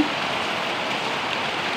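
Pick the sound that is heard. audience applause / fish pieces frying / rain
rain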